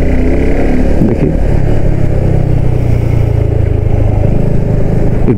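A Suzuki Gixxer SF 250 engine runs loud and close, holding a steady, throbbing drone with slight rises in revs and no speech over it.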